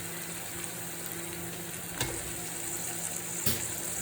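Onions sautéing in a pan, a low steady frying hiss with a faint hum and two brief spatula knocks, fairly quiet and without speech.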